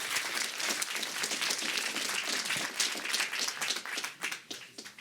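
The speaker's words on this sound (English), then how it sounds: "One last round of applause for Bodo" An audience applauding a speaker at a Google X Prize event in New York, a dense burst of clapping that holds steady and then thins into scattered individual claps as it dies away.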